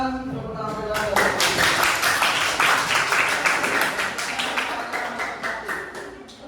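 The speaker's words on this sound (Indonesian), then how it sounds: "Yang lainnya beri tepuk tangan untuk penampilan." A classroom of students applauds a group's performance. A voice speaks briefly, then a burst of many close hand claps swells and keeps going, slowly thinning toward the end.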